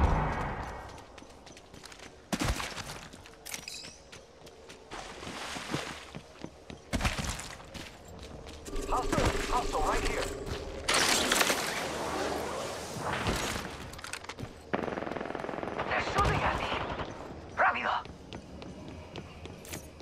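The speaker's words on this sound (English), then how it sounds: "Opening fire on the enemy." Gunfire in Apex Legends comes as scattered sharp bursts and cracks against a busy game soundscape, with some louder impacts and clattering effects mixed between the shots.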